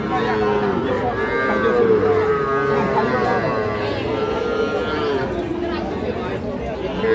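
Young heifer calves moo repeatedly at a busy Ambari cattle market, their long calls rising over constant crowd chatter and nearby talking.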